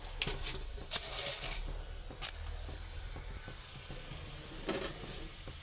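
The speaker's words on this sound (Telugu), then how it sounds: "ఆవాలు చెట్పట్లాడాలి ఫ్రెండ్స్" Mustard seeds splutter in hot oil for the tempering of a ridge gourd peel and peanut chutney. Faint sizzling runs throughout, punctuated by a few sharp, irregular pops.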